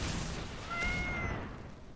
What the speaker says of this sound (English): You can meow.